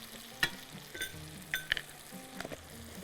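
Garlic powder and other ground spices sizzle and fry in a pan, with short crackling bursts, stirring and a faint clink of utensils against the cookware, close and moderately quiet.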